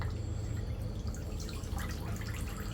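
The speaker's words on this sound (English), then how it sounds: "That rack and pan catch the water." Water drips steadily from a soaked, brined bacon slab resting on a dry rack over a catch pan, with a continuous soft trickle and patter close by and no voices.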